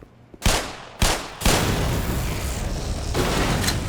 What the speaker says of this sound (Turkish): Oradaki makineleri patlattım abi şu ikisini